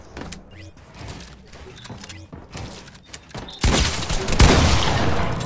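Gunfire in Fortnite, a series of sharp separate shots followed by a dense, loud burst of rapid fire that continues to the end.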